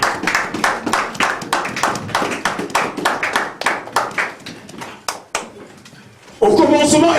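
A church congregation claps and cheers in praise of the word of God: a steady run of sharp hand claps under a speaking voice, then a louder swell of cheering and applause at the end.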